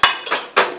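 Spices and shrimp paste pounded in a mortar for beef krengsengan, three sharp hard knocks in quick succession, close and loud.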